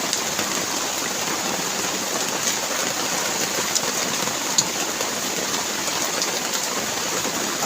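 Steady rain falls throughout, a dense, even hiss of drops on surfaces with occasional sharper drip ticks, no voices present.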